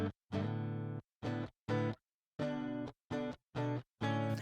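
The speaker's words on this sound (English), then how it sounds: "Let me take everything off so you can hear the DI." Clean, dry DI signal from an American Fender Stratocaster playing strummed chords in short, evenly spaced bursts separated by brief silences, close and clear with no effects or talk.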